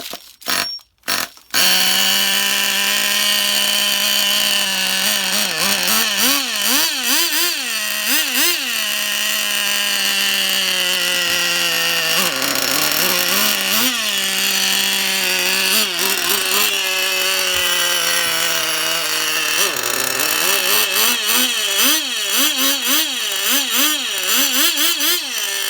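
A small model engine, revived after months sitting on a shelf, runs steadily and loudly for most of the stretch, its pitch rising and falling with repeated throttle blips and revving.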